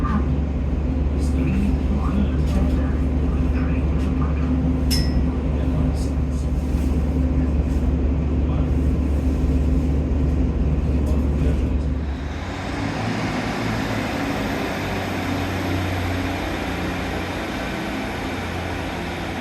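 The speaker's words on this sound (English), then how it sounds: "There goes my train, off to Paynton." Diesel train pulling out of Newton Abbot station bound for Paignton, a loud steady low rumble and engine drone close by, which eases and thins out after about twelve seconds as it moves off into the distance.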